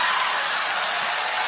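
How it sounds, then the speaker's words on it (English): A comedy crowd breaks into applause after a joke, a brief, dense wash of clapping that stays steady and fairly loud throughout. "Applause break on the trapper bit."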